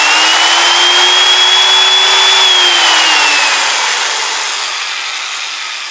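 An electric drill powered through a homemade 12-to-220-volt inverter, drawing 5 amps at startup, whirs at high speed, its pitch rising slightly then winding down as the motor slows, loud and close with nobody speaking.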